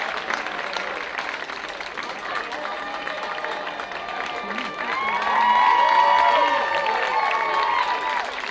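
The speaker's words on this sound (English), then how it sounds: "big round of applause" Crowd at a high school football game, Westerville Central versus Dublin Jerome, applauding and cheering in a big open stadium, with steady clapping and shouts that swell louder midway and stay strong, mixed with distant voices and whistles.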